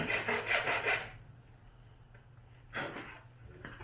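Hand saw teeth rasping through Hayabusa motorcycle windscreen trim with light pressure, a burst of rapid back-and-forth strokes, then a pause before another short run of strokes, close and moderately loud.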